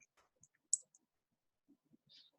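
A single quiet mouse click on a Calculate button in a program demo, one short crisp tick in near silence, with a few faint ticks and rustles around it.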